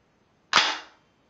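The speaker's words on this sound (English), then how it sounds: "and then you know I have it chambered" A Radical Firearms AR-15 pistol is chambered, giving a single sharp metallic clack from the action that rings briefly and dies away, close and alone.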